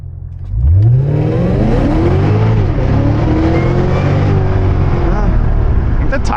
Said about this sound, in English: What happens if we just mat it in drive? Will it just boil tires through the gears up a hill?